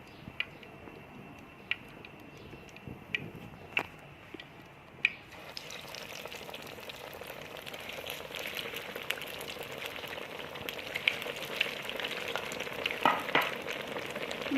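Chicken pieces fry in hot ghee in a pan: a quiet start with a few sharp clinks, then a steady, crackling sizzle that swells and stays loud and close for the rest of the stretch.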